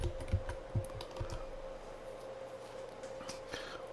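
Quick, light clicks of computer keys being typed, a short burst of irregular taps at close range that thins out into a quiet room hum.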